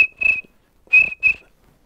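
A person imitates a cricket chirp with the voice, making three short, high, whistle-like bursts up close, with pauses between them and no other sound.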